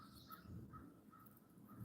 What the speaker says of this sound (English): Mr. and Mrs. Crow.